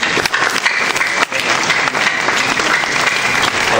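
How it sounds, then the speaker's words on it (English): Audience at a New York Comic Con panel applauding, a dense, loud, continuous wash of clapping from a large crowd that holds steady for the whole stretch. "Applause for an answer."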